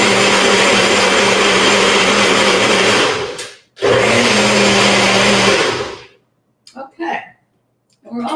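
A blender whirs loudly at close range while blitzing a chili sauce mixture, runs in two bursts separated by a brief stop, then cuts out, followed by a few short knocks and quiet handling sounds.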